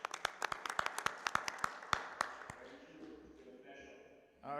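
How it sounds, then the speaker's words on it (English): A small group gives a short round of applause at a banking conference session, a quick run of sharp, close claps that thin out after two seconds before a voice briefly follows. "we want to give you a round of applause."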